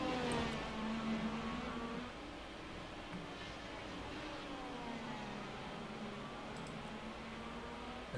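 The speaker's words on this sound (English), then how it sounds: "why not just enjoy some sights and sounds of the Lauer IR18 on iRacing" Lauer IR18 IndyCar engine in the iRacing sim at the Mid-Ohio course, a faint, tonal engine whine that rises and falls as the car works through gears and corners.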